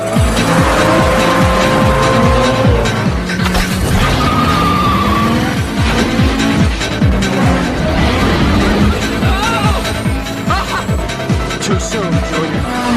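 Street race cars from The Fast and the Furious roar loudly and continuously with revving engines and occasional tire squeal, mixed with film music and some voices.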